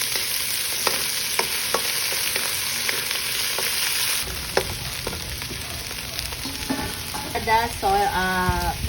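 Bell pepper, carrots and potatoes fry in a pan, a loud, close, continuous sizzle with occasional knocks of stirring and a brief rising squeal near the end, no speech.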